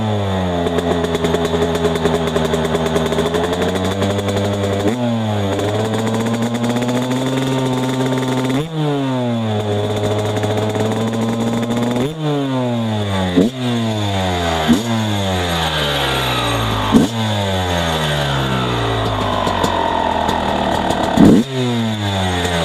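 An XTNG GEN3+ 36 dirt bike engine lugs at low RPM up a steep 30-degree woodland trail, a loud, close, steady drone that repeatedly rises and falls in pitch through gear changes, with no talk over it.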